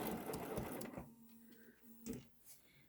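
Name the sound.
sewing machine top stitching fabric face mask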